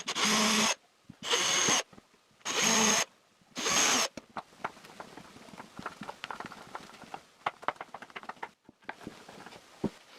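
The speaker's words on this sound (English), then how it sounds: "And I screw the plate to the strips." A power drill drives screws fastening a plate to wooden strips for a DIY horizontal router table, giving four loud whirring bursts close by, then a run of light tapping and handling knocks.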